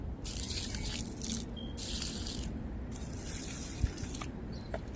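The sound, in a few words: pouring water onto tomato plants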